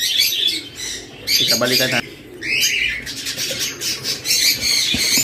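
Young opaline parblue lovebirds squawk and chirp in repeated bursts close by, shrill calls overlapping, while a person talks over them.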